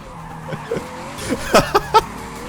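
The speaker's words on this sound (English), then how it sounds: "The new Ferrari J50 is an absolute lovely, lovely piece of machinery. Great to drive." Ferrari J50 in Forza Horizon 5 driving, a close, fairly quiet engine hum with short tire chirps and a few sharp squeals clustered near the end.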